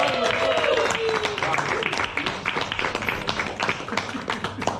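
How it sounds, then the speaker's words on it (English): A group applauds during a talk about a Mount Kilimanjaro world record attempt, scattered claps under ongoing chatter and voices throughout. "Give him a round of applause."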